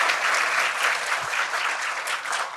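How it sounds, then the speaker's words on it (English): An audience at Marquette Law School applauds a guest, a steady, dense wash of clapping from a crowd that holds evenly throughout with no voices over it. "Could you give a round of applause to our guest, Dr. Brenda Cassellius?"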